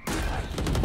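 A burst of rapid, loud gunfire from an online shooter game shootout, with shots overlapping into a continuous, dense rattle for under a second.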